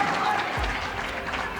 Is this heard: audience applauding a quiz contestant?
yes